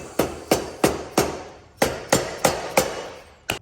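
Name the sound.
rubber mallet tapping Yamaha BW80 fork part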